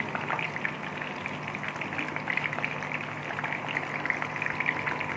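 Chicken wings fry in oil over a medium-low flame, giving an even, dense crackle and bubbling that holds steady and close for the whole stretch, without speech.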